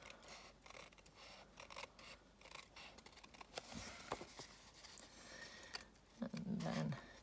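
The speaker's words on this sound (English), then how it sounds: "turning the envelope and your scissors to go around the corner" Soft, repeated snipping and rasping of scissors cutting around a paper envelope, turning at the corner, faint and close, while someone talks quietly over it.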